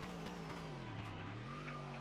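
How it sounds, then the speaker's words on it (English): Race car at Portimao circuit running over the outside curb, a faint, distant engine whine sliding in pitch with a brief scraping thud as it bottoms out, heard alone. "Outside curb bottomed out."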